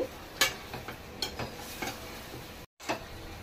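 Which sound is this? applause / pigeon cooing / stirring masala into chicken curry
stirring masala into chicken curry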